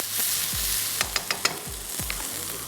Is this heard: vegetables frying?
yes